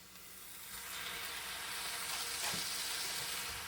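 Minced chicken frying in a pan for a Mediterranean salad wrapped in lettuce leaves, a steady soft sizzle that thickens slightly as the mince goes in, alone with no voices.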